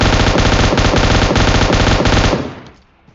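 An M4 rifle in a shooting video game fires one loud, close, rapid burst of automatic fire that lasts about two seconds before trailing off into a fading echo.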